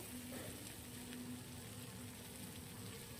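Yardlong beans frying in a pan with some water left underneath, giving a steady, quiet sizzle that stays even the whole time, with no talk over it.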